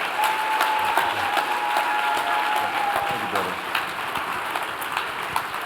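A large crowd at a Tyler Perry master class applauds steadily, a dense wash of clapping that holds throughout, with a faint voice briefly heard beneath it.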